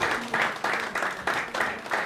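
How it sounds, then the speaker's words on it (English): An open mic audience applauds in short, soft bursts at a small venue, heard from a distance. "Another round of applause for Brian, the eloquent clown."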